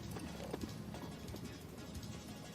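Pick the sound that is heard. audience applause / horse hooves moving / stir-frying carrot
horse hooves moving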